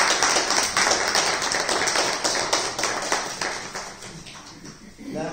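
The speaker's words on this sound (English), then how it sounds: "How about a hand clap for your word?" A church congregation claps their hands together in a dense, lively burst that gradually fades out, with voices heard alongside.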